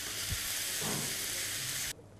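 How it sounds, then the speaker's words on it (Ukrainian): Apples caramelizing in a hot pan for oatmeal, giving a loud, steady sizzle with a brief stirring scrape before the sound drops off abruptly near the end. "І так як наша страва називається вівсяна каша з карамелізованими яблуками, доводимо яблука до карамелізованості."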